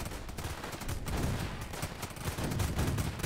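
Defenders firing guns in the tower defense game Northend, a dense steady crackle of overlapping shots that runs loud and continuous throughout.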